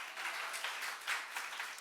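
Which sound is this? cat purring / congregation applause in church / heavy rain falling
congregation applause in church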